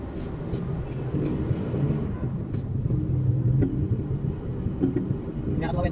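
A tricycle engine rumbles steadily throughout a ride in Science Park, a close, continuous low drone with road noise and occasional clicks, while people talk over it.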